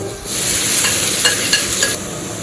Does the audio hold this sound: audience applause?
no